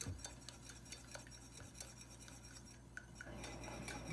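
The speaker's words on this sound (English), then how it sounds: "just keep stirring it" Melted chocolate being stirred into eggs in a bowl, faint soft clinks and scrapes of a utensil against the dish, quiet and close with steady low background hum.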